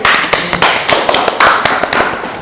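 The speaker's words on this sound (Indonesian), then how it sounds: "Tepuk tangan." Students in a classroom clap together in a loud, rhythmic burst of roughly a dozen sharp, evenly spaced claps, close and unaccompanied by talk.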